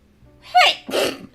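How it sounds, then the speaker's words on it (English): A single sneeze bursts out close by, a sharp breathy first burst followed by a rougher second one, then quiet. "I'm gonna sneeze."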